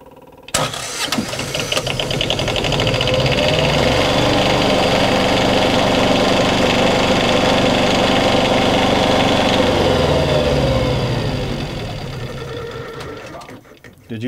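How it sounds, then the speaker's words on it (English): A generator engine, just refilled after an oil and filter change, starts and runs steadily at close range for about ten seconds before winding down, its loud, even drone with a buzzy mechanical rattle. "we're ready to fire the generator and we're going to be looking for leaks"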